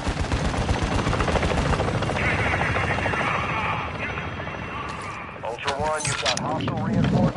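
A video game battle roars with a helicopter's churning rotor under bursts of gunfire and explosions, loud and close, with a voice talking over the din.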